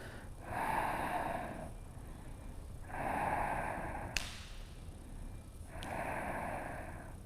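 Slow, deep breaths drawn through the nose during a wide-legged yoga pose: three long airy inhale-exhale cycles, close and fairly quiet, with a couple of faint sharp clicks between them.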